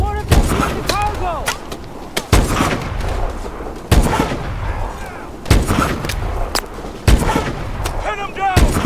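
Gunfire erupts during a Call of Duty: Advanced Warfare campaign mission: loud, heavy shots land irregularly every second or so, with some booming, and voices speak among them.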